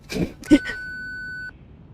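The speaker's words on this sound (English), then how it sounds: "Please leave a message after the beep." A single steady electronic answering machine beep from the video game Reverse: 1999 lasts about a second and follows brief speech.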